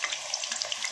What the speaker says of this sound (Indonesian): Ini kita akan goreng sampai mateng ya,